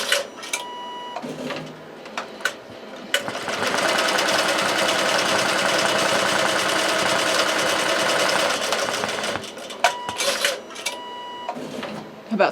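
A sewing machine runs in one steady, loud burst of about five seconds while stitching a tote bag, with short stops and starts before and after.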